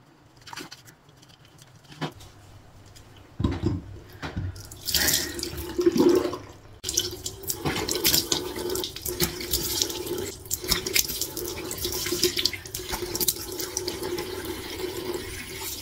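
Running water at a bathroom sink while someone washes their face, with splashes, patters and gurgling against a steady faucet flow that grows fuller partway through.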